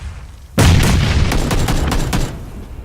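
Video game gunfire erupts after a brief quiet moment: a loud close boom followed by a dense run of rapid shots lasting about two seconds before tapering off.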